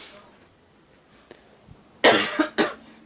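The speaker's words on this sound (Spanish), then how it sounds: "es que tengo una tos que tremenda" A couple of sharp, loud coughs in quick succession after a quiet stretch, close to the microphone.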